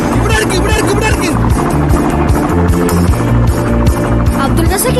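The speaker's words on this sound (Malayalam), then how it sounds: "ഹെലികോപ്റ്റർ എത്തി. അബ്ദുൾ റസാഖേ, ഇവിടെ ഇറക്ക്." A helicopter arriving in a Malayalam movie scene gives a loud, steady throbbing rotor drone that runs through the whole moment, layered with busy soundtrack texture and voices.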